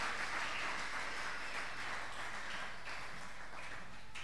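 A church congregation applauding the Lord during a family worship service, a steady wash of clapping heard at a moderate distance for several seconds.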